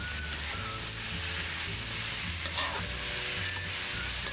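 Kangkong (water spinach) is stir-fried in a pan with garlic and onion: a steady loud sizzle with repeated scraping stirs, no talking.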